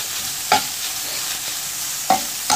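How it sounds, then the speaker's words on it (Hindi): Chicken and capsicum fry in a pan with a steady sizzle, broken by three sharp scraping stirs, close and fairly loud with no talking. "हम चिकन को भी 1 से 2 मिनट भूनेंगे"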